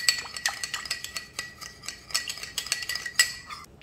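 A spoon stirs Christmas cocktail ingredients with lime juice in a glass, making quick, continuous clinks and rattles close by, with a brief pause before the end.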